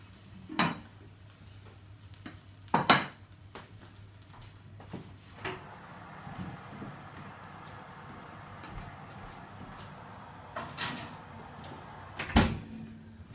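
A lidded pot of pheasant goes into the oven: a few sharp metallic clanks of lid and pot, then an oven door closing with a thud, set against a low kitchen hum with quiet pauses between the knocks.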